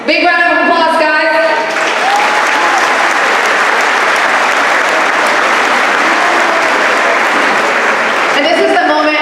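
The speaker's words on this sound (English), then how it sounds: "Big round of applause, guys." A large crowd at an all-star sports event opening ceremony bursts into sustained loud applause for a girls' team, steady and dense for several seconds, with a voice and a brief sustained tone at the start and end.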